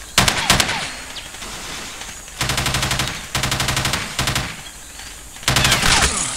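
Repeated bursts of automatic gunfire from the video game Ghost Recon, loud and close, with rapid rattling volleys separated by short pauses and a final sustained burst.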